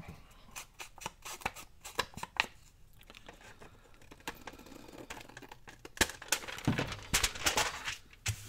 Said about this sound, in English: Just going to tear off the ends so they don't look so cut.